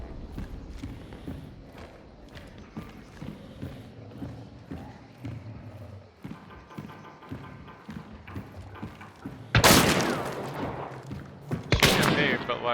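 Gunfire in a video game: a few loud, sharp bursts crack out near the end, after a stretch of hoof-like clopping and softer shuffling sounds in the background.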